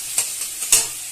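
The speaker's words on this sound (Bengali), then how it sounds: "এবারে পেঁয়াজটাকে লাল লাল করে ভাজবো।" Onion frying in a pan until browned, with a steady sizzle broken by a few sharp stirring scrapes, close and alone without voices.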